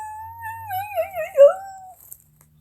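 A voice imitates a dog with one drawn-out, wavering howl that rises and falls, whimpering at the end, followed by quiet.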